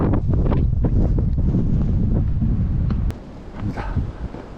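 Strong wind gusting across a snowy mountain ridge on Gyeryongsan, buffeting the microphone with a heavy low roar that drops abruptly to a lighter rushing breeze near the end, no voices.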